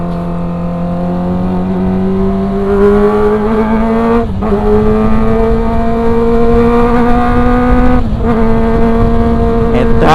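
A Kawasaki ZX-25R motorcycle engine revs loud and close on a test ride, its pitch rising steadily through a gear with two brief dips at shifts before climbing again, a high-strung four-cylinder wail over wind.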